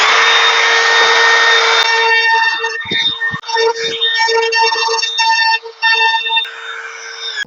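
A router with a 1.6mm radius cutter rounds over wood edges, a loud high whine that drops in pitch and stutters as the bit bites the workpiece in short passes.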